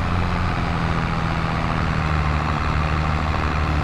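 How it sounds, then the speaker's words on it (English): A tractor engine in Farming Simulator 22 idles and runs steadily, a loud, constant low diesel rumble with no other sounds or voices over it. "Now we can go park the tractor into the garage"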